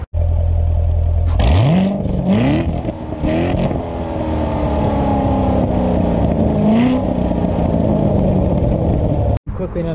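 A 2018 Chevy Corvette with a 6.2 liter V8 and quad exhaust idles, then revs up sharply in loud climbing bursts before settling into a deep, rumbling drone, close and dominant, ending with a sudden cutoff.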